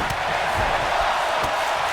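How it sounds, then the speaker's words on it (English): Wrestling crowd in a packed arena roaring a steady chant right after a superplex off the top rope, a dense, continuous wall of voices without pause. "Crowd chanting, "This is awesome," after the superplex from the top rope"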